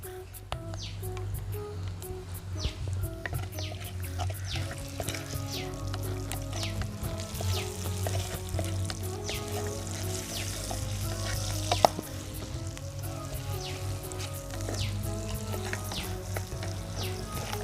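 White onions and curry leaves fry in hot oil over a village cooking fire, giving a steady, continuous sizzle with light stirring scrapes throughout and no talk.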